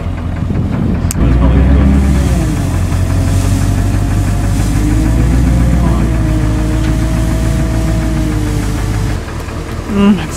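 A tree-trimming company truck rolls up and idles, giving a loud, continuous low diesel rumble with a steady tonal drone throughout, briefly dipping near the end.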